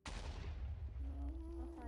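Ghast firing fireballs in a Minecraft game: a sharp booming blast at the start trailing into a sustained loud low rumble, with faint game tones and no clear talk.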